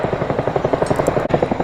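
An RAF Chinook helicopter at an air display gives a steady, loud rhythmic rotor thump with a droning engine whine throughout, close and continuous.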